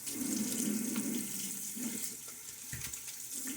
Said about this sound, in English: Splash of water on my face.